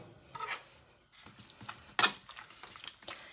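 A spoon clinks and scrapes against a bowl while chicken marinade with vinegar is stirred together, a few irregular clattering knocks and wet stirring sounds, fairly quiet and close.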